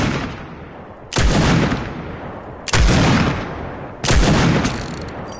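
Three loud, sharp gunshots from a Fortnite weapon, spaced about one to one and a half seconds apart, each with a booming onset and a long decaying tail, with no talking.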